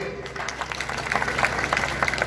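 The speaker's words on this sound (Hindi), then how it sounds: "इसके लिए तालियां होनी चाहिए।" A crowd at a khap panchayat gathering in Hisar claps steadily, a dense patter of many hands at moderate loudness over a low background hum.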